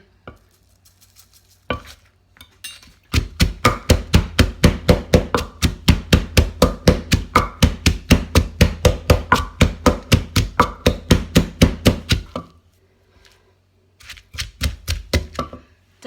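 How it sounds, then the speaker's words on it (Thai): Ingredients and sugar pounded with a pestle in a mortar for Thai miang pla, a fast steady run of sharp thuds, close and loud, followed by a short pause and a few more strikes. "ก็จะมาตำนะคะ ใส่น้ำตาลไปหน่อยนึงค่ะ ไม่ให้เขากระเด็น"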